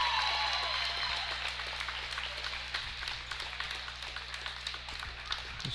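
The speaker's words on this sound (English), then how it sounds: "It's a very deserving round of applause there for Tara." Crowd applause in a gym at a high school district basketball game between Spring Hill and Gurdon, moderate and fairly distant clapping over a low steady hum, fading slightly as it goes on.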